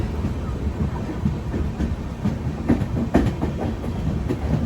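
Netravati Express sleeper train rolls along at speed with a steady loud rumble and rail clatter, as another train passes alongside on the neighbouring track, with occasional sharper clacks over the joints.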